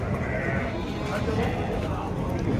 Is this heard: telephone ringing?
no